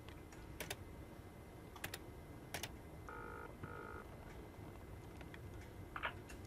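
A telephone being dialed in the video game Amerzone: faint sharp clicks of the dial or keypad followed by two short tonal beeps, quiet against a low background hum.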